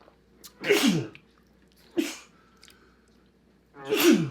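Two loud sneezes with a sharp intake of breath before the last one, and a brief exhale between them, nearby and otherwise quiet.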